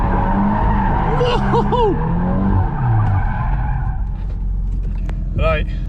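A Volkswagen Golf R drifts with its engine revving and its tires squealing in repeated wavering howls, close and loud. A person calls out an exclamation midway, and more short squeals come near the end.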